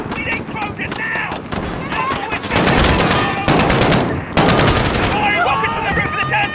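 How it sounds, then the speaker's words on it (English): Automatic weapon fire in the Modern Warfare video game campaign: loud, dense bursts and sustained rattling volleys with heavy booming shots, close and relentless, while voices shout over the firefight. "Shots fired!"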